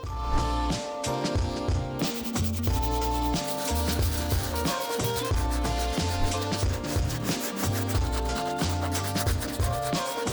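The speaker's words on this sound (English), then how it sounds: "we're gonna be using our medium bristle brush to go over the entire shoe one more time" A medium bristle brush scrubs over the whole upper of an Air Jordan 3 sneaker in a continuous rubbing sound, with a dense steady background throughout.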